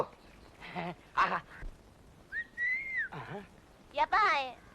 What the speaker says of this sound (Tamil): எத்தனை தடவை சொல்லிருக்கேன் விசில் அடிக்காதேன்னு